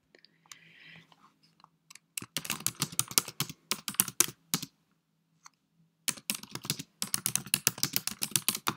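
Someone types a quiz question on a computer keyboard, with rapid bursts of close key clicks separated by short pauses, after a faint brief rustle at the start.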